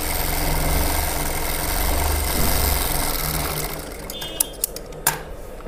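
A sewing machine running a long basting stitch on a garment makes a steady mechanical whirr that tapers off, followed by a few sharp clicks and taps near the end.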